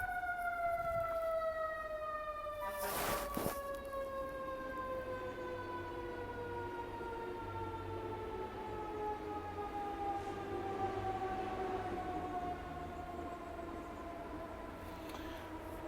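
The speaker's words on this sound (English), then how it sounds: "There's some loud sirens one moment." Loud wailing sirens with several sliding tones sound steadily throughout, joined briefly by a sharp burst near the start, with no talking.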